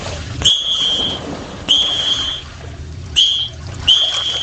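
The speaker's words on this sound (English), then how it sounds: "You can blow that whistle all you want, Rose." Four shrill whistle blasts, each short and piercing, spaced irregularly over steady background noise.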